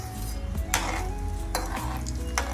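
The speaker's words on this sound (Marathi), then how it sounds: "तो थोडा तळून घेते मी आता." Crushed whole garlic frying in oil in a pan for poha chivda, with a steady close sizzle, a low hum and a few sharp scrapes of a stirring spoon against the metal.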